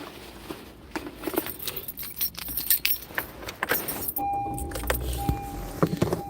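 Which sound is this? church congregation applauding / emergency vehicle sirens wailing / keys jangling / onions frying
keys jangling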